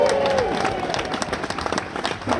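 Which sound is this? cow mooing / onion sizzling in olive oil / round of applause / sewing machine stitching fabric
round of applause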